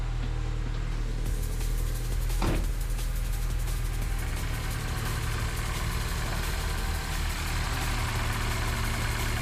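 A $1,000 Mini's engine idles steadily just after starting, a continuous close mechanical hum with a brief sharper sweep early on and no talking.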